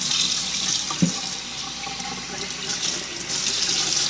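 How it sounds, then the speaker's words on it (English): Tap water runs steadily into a sink while hair is detangled under the stream, a continuous close hiss with small splashes and brief handling sounds. "I think it's best to detangle under running water"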